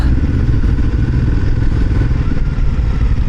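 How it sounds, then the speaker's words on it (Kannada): A Honda NX500 motorcycle fitted with an aftermarket exhaust runs at a steady, loud, close-up engine drone with a rough, throbbing low end and no speech. "ಇದು ನಾನು ಎಕ್ಸಾಸ್ಟ್ ಬೇರೆ ಚೇಂಜ್ ಮಾಡಿಸಿದ್ದೀನಿ ಅದು ನಿಮಗೆ ಸೌಂಡ್ ಕ್ಯಾಚ್ ಆಗುತ್ತೆ ಇಲ್ವೋ ಗೊತ್ತಿಲ್ಲ"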